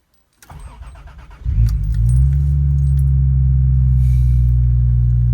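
Keys jangle briefly, then a Mk3 Toyota Supra engine cranks and catches, settling into a steady, loud idle close by.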